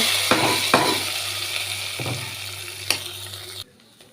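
Hot tempering with asafoetida is poured into Malli Pongal and sizzles steadily, with a few sharp crackles and stirring scrapes before the sizzle abruptly cuts off near the end.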